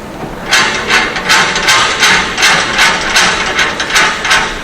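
Screws are turned on a CBR soil test apparatus to set the reaction frame, giving a loud, close, steady run of metallic ratcheting clicks in regular bursts with no talk.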